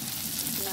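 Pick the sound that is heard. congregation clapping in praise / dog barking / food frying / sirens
food frying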